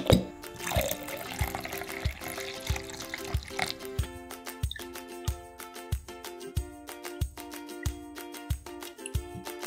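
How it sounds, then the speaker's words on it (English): Clear glue and water are mixed in a bowl for slime. A splashy liquid sound comes first, then a nearby utensil stirs in a regular rhythm, giving sharp scraping taps about twice a second. "mix equal parts clear glue and water,"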